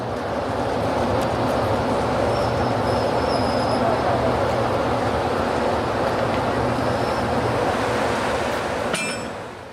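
Steam locomotive 663 and its carriages being shunted and put back in order at Arthur's Pass, a steady loud rumble of rolling stock that continues throughout, with faint higher squeals along the way and a clank near the end.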